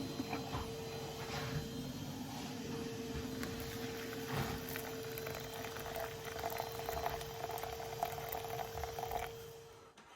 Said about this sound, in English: I'm just going to get a bit of stock in there now.